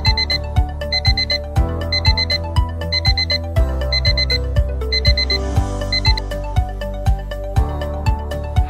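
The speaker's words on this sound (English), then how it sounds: "I set the alarm at 7." A Reflexbox Wi-Fi charger sounds its alarm: a steady, repeating pattern of bright electronic beeps over a melodic ringtone tune, loud and close, with no talking.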